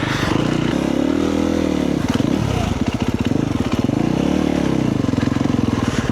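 A KTM motorcycle rides a rough, difficult stretch at the start of the riding season, engine loud and close with rising and falling revs and throttle pulses, plus clattering and scraping over uneven ground.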